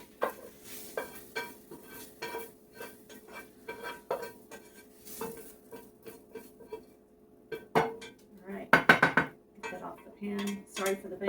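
Metal pan banged and scraped with utensils while a squash casserole of sautéed zucchini and onion is assembled; irregular clanks and knocks throughout, with a dense burst of loud clatter near the end.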